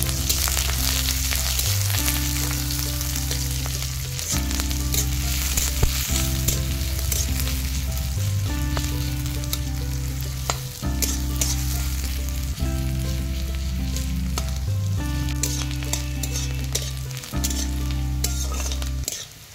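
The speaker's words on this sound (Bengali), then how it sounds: "তেলের মধ্যে কোচানো পেঁয়াজ আর কাঁচা লঙ্কা 1 চামচ 5 ফোড়ন দিয়ে হালকা নেড়ে চেড়ে ভেজে" Chopped onion, green chili and a spoon of panch phoron fry in oil, giving a steady, close sizzle with light stirring clinks throughout and no voices.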